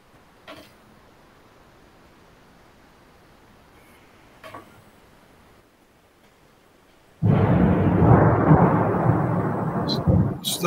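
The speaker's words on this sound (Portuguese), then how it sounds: "Estamos no meio de uma tempestade aqui em Brasília" A thunderstorm in Brasília. A quiet indoor stretch with a few faint clicks gives way to a sudden, loud, roaring burst of thunder, rain and wind that holds steady to the end.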